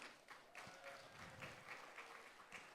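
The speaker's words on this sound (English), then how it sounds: "can we please have a round of applause for all of you?" Workshop audience applauding at an accessible-tourism event, a dense, steady patter of many hands clapping at moderate distance, lasting the whole stretch without voices.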